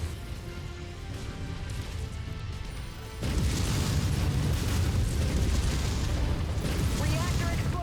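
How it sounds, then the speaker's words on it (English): A mech's reactor detonating in the video game MechWarrior 5: Mercenaries, a deep rumbling blast that swells loud around the third second and keeps roaring with sustained crashing debris amid the ongoing battle noise. "Reactor explosion imminent."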